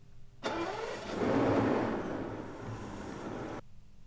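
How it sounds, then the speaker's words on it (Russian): A BMW E38 engine starts after the ignition is switched on and the throttle valves are checked: it cranks and catches, then runs for about three seconds at a mid-pitched idle before stopping abruptly. "перед каждым пуском двигателя выполняется механическая проверка дроссельных заслонок, на что указывает короткий щелчок при включении зажигания"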